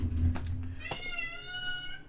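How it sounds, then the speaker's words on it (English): A cat shut inside a shower meows to be let out, a couple of close, drawn-out plaintive calls with a quiet pause between them. "The cat wants out the shower."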